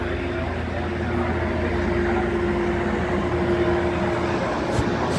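Metrolink commuter train 322 runs between Rialto and San Bernardino, with a steady interior rumble and a faint sustained tone heard continuously from inside the car.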